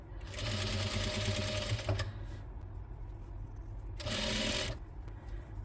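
A sewing machine stitches fabric using blue thread below and white above, running in two close, loud, steady whirring bursts separated by a pause with low background noise.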